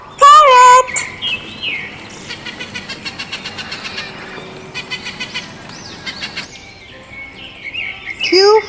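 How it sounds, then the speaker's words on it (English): Parrot squawks and whistles in several bright, sharp bursts: a loud call at the start, a run of rapid chirps in the middle and another shrill call at the end. "P for parrot."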